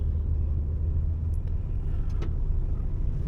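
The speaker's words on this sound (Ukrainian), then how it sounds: "Так, їде легкова машина" A passenger car drives past on a road, a steady low engine rumble and tyre roar that holds close and fairly loud for the whole moment.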